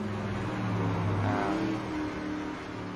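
A dirt race car in the iRacing sim, set up with a softer right rear spring, accelerates out of a corner: a steady, droning engine whose revs rise and fall, with no talk over it.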